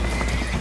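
Spooked horses neigh and whinny in the hold of a leaking boat in Red Dead Redemption, a short, steady burst of equine calls over a dense, rumbling background.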